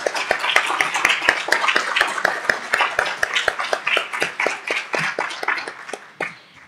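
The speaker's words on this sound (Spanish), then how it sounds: "Un aplauso, por favor." An audience claps after a social sciences lecture by a Universidad Nacional de Colombia professor, a small group giving sharp, fairly sparse, rhythmic claps that thin out near the end.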